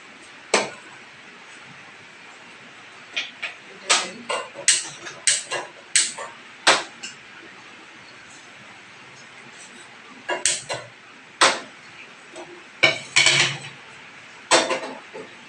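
A metal pot of curry being set on a stove to reheat, with scattered sharp clanks and knocks of cookware coming in bursts and separated by quiet gaps.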